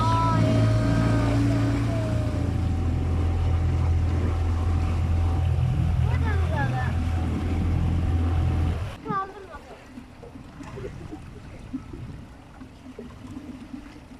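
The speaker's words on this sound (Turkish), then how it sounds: "Motor yaşlandı galiba." An aging boat engine drones low and steady for about nine seconds, then cuts out abruptly, leaving wind and faint water noise with a few brief voices.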